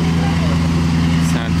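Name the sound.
Mansory Lamborghini Urus engine noise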